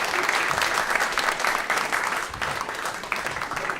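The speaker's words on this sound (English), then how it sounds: "Give him a round of applause." Audience at a live comedy and variety show breaks into steady, full applause that fills the room, dense clapping sustained without a break, with faint crowd noise mixed in.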